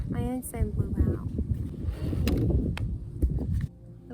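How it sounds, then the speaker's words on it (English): Gusty wind buffets the microphone with low rumbling bursts, while a person talks intermittently over it. "It's so windy."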